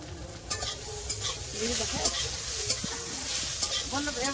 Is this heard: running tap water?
no